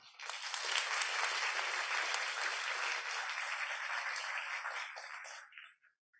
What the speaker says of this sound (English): let us give a big, warm round of applause